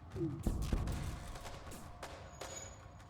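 Ship weapons fire in FTL aboard the Kestrel, a few sharp laser-like shots and bursts spaced over a few seconds against a low game hum.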